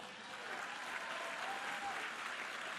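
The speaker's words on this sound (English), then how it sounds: "50 years of SNL, we can applaud for a moment." An audience at the White House Correspondents' Dinner applauds to mark 50 years of SNL, a steady wash of clapping from a large crowd, loud and sustained with no break.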